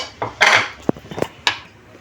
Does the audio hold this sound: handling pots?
yes